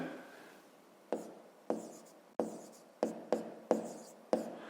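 Handwriting on paper while working a fifth-grade math exercise: seven or eight distinct pen strokes and taps at irregular intervals, each a short scratchy burst fading out, close up and alone with no voice.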